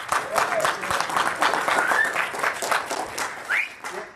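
An audience at a training session claps in a dense, steady burst of applause that lasts several seconds and fades a little at the end.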